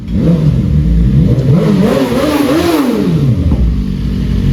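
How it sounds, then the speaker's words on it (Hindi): A BMW car with a loud exhaust pulls in close, its engine revving and burbling in rising and falling swells, then settling into a deep rumbling idle, loud and right near the microphone. "दद्दू आ रहा है गाड़ी लेके एकदम मस्त, एकदम रौले में, फुल ठसका टाइट करके एकदम कॉलोनी में"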